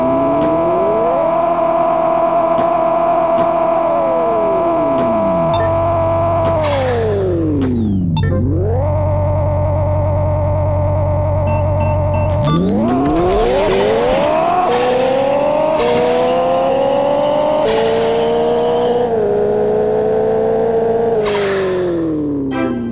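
Engine revving in the Pixel Car Racer video game, loud and continuous, with rising and falling pitch sweeps through repeated gear changes, a brief lull, then hard acceleration again, with no talking.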